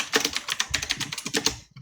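Fast, uneven typing on a computer keyboard, close and clear, with rapid clustered keystrokes in bursts before stopping abruptly.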